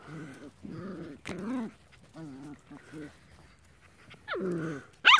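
Sheltie puppy growling in the Alabama Hills, several short low rumbling growls and yips close by, broken up by pauses, with a person speaking between them.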